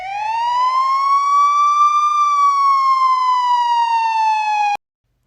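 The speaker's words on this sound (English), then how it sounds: "soon, he hears the police coming." A loud police siren wails steadily in one long rising and falling tone for nearly five seconds, then cuts off abruptly, heard alone with no voices.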